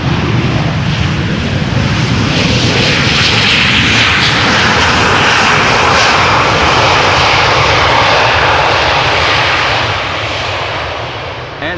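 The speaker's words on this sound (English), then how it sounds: "And application of reverse thrust as a bonus" A Corendon Boeing 737-800 rolls out after landing at Amsterdam Schiphol Airport, its reverse thrust a loud, sustained jet roar that holds steady and then eases slightly toward the end.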